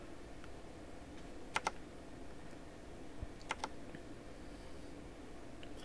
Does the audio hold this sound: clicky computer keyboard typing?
yes